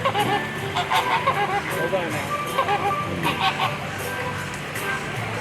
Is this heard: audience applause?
no